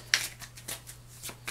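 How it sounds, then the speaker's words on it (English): A deck of game cards is shuffled by hand, giving a run of crisp riffling bursts at an uneven rhythm, close and fairly quiet, with a faint low hum underneath. "we'll give the cards a shuffle"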